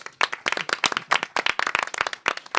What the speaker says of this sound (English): Let's give Dr. Bedden a round of applause, please.